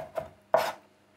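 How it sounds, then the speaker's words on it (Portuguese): A knife chops garlic cloves on a board in two crisp strikes, a lighter one followed by a louder, longer one, close and with no speech. "Começo por picar dois dentes de alho"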